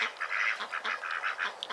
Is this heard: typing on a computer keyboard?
no